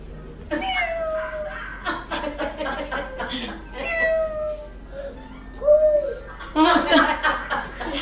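A person's voice imitates a lonely cat's meow, giving several drawn-out, pitch-bending mewing calls with chuckling mixed in, close and moderately loud.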